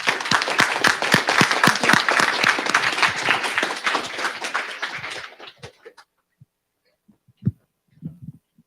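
An audience at a summer systematics institute applauds the morning speakers, a full round of dense clapping for about five seconds that thins out and stops, leaving a few stray claps and small sounds in a quiet room.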